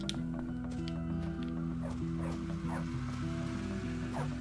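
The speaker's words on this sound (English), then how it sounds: "Run over the stupid dog." A dog barking in the video game Bully: Scholarship Edition, a few short yips and barks over a steady droning game background and tonal music.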